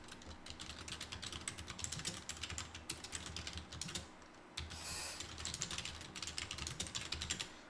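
Rapid, steady keyboard typing of a message in a chat-channel app, a dense run of close clicking keystrokes with a brief pause in the middle, over a faint background hum.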